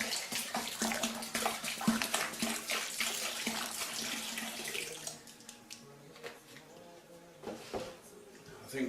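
Litre bottles of liquid glugging into a vessel for strawberry cider, a close splashing gurgle that rises and churns, then eases to lighter trickling and bottle clinks.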